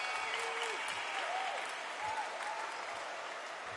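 A crowd in the boxing video game Undisputed keeps up a steady roar of applause and cheering, with a few whistles rising above it.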